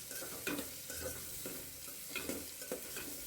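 Onions for chicken biryani fry in a pan, with a soft continuous sizzle and repeated scraping stirs at an unhurried pace, close but fairly quiet.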